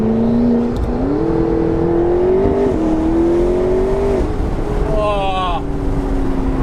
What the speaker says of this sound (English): Let's do some accelerations.